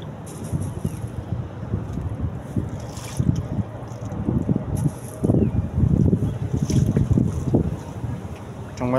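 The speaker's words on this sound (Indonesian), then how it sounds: "angin kencang banget" Strong wind blows outdoors beside a catfish pond, buffeting the microphone in a continuous rough roar with gusty bursts, while faint voices come through underneath.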